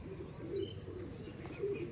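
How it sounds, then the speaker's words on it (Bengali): Pigeons at a home pigeon sale coo softly twice in low, short hums over a faint, steady background. "মালবাহী পায়রা, পাঠা পায়রা, এখনও আকাশে দেওয়া হয়নি"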